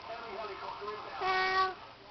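A young child imitates a cat's meow with a short, drawn-out vocal mew lasting about half a second, fairly quiet and close.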